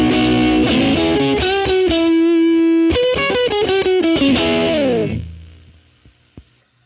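A Fender Mustang Micro Plus headphone amp on its evil bass preset drives an electric guitar through a heavy, distorted riff of chugging and sustained notes for about five seconds before the sound cuts off and rings away.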